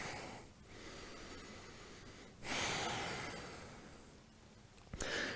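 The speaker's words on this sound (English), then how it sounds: "Take a couple breaths" Slow, deep breaths through the nose during a home workout warm-up: quiet, close inhales and exhales with a sharper sniff near the end, and no speech.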